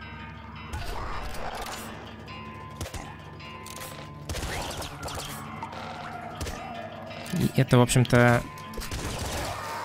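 Gunfire from the top-down shooter game Nuclear Throne: several sharp shots and rapid bursts crack out at irregular intervals, with a louder cluster near the end. Someone talks over the action throughout.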